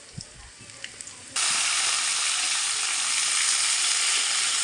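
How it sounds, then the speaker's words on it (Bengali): Eggplant and mutton curry cooking on a home stove, a few faint clinks before a loud, steady sizzle and hiss suddenly take over and hold to the end. "এই চুলায় রান্না হইতেছে বেগুন খাসি"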